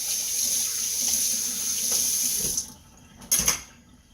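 A kitchen sink tap runs steadily for about two and a half seconds while dishes are washed, then cuts off, followed by a brief close splash of water.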